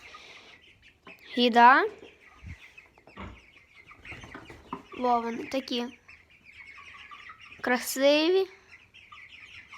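Broiler chickens clucking in a backyard coop, three bursts of clucks and short calls spaced a few seconds apart, fairly close, with a person talking softly between them.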